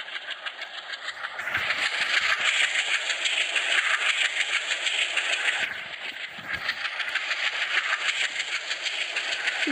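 Tripura Sundari Express train running at about 40 km/h in the Indian Train Simulator game, a steady rolling rumble and hiss with rhythmic clickety-clack, loud and continuous with brief dips.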